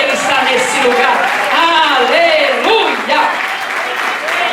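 A church congregation claps during an evening service, sustained loud applause heard under a preacher speaking with a raised, tonal voice.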